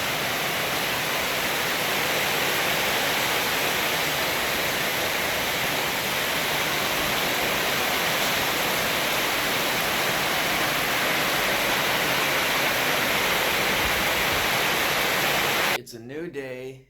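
Heavy rainstorm in Bali, a steady, loud, dense hiss of falling rain that stays constant before cutting off abruptly near the end.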